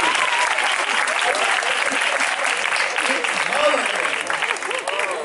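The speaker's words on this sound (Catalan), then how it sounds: "Molt bé, aplaudiment." An audience at an evening 9 d'Octubre commemoration breaks into steady applause, a continuous wash of clapping while voices talk over it throughout.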